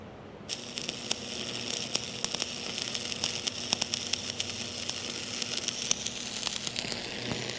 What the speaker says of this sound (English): Let's tack it before the wind blows it away.